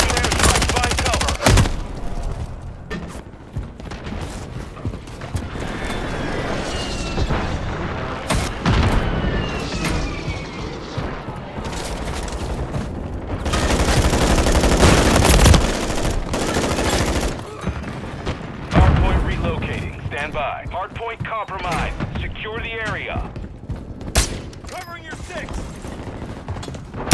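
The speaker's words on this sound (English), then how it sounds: "Enemy precision airstrike. Find cover." Dense gunfire and booming airstrike explosions in Call of Duty, with rapid volleys, heavy thuds and scattered in-game voice callouts over a constant combat din.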